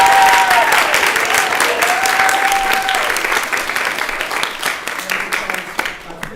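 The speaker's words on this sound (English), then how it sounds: "So a big round of applause." An audience at English thesis presentations applauds, a full burst of clapping with a few whistles that gradually thins and tapers toward the end over several seconds.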